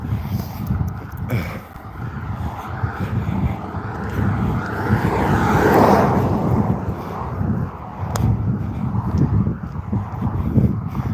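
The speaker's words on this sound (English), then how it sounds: "there's a slight breeze. You may hear it through the microphone" A light breeze buffets the microphone during an outdoor walk, a steady low rumbling wind noise that swells in the middle and dips briefly near the end, with no talking.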